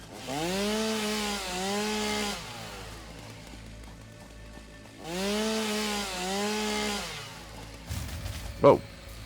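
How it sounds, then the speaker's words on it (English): Factory machinery in the video game Satisfactory shuddering to a halt: two loud, wavering mechanical whines, each sliding in pitch as it winds down, separated by a quieter gap, then a short clatter and a sharp knock at the end. "My factory shut down again."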